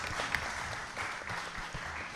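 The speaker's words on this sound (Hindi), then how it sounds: "सभी वादकों के लिए भी एक बार जोरदार तालियां" An audience at a Ramayan music performance applauds steadily for a couple of seconds, a dense patter of many hands at moderate distance with no voices over it.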